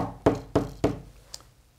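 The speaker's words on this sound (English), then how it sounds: "You go to the door, knock on the door," Three firm knocks on a door, evenly spaced and close, with a faint tap trailing after them and no voices.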